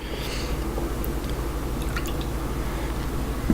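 Homemade hard cider sloshes and glugs in a jug fitted with an airlock, making close, continuous wet gurgling and dripping with no one speaking.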